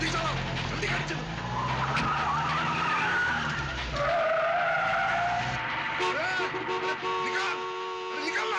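Car driving fast with tires skidding and squealing during a tense underworld chase scene, loud sustained tire screech and engine roar across the whole stretch, with shouting voices mixed in.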